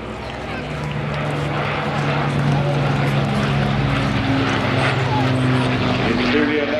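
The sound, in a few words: propeller aircraft flying at air show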